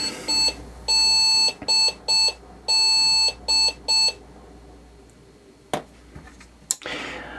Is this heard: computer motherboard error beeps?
yes